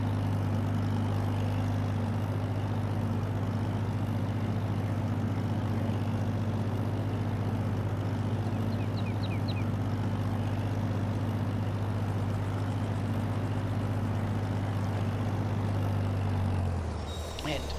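An old-fashioned little tractor in Farming Simulator 22 runs with a steady, droning low engine hum that holds evenly throughout before cutting off right at the end.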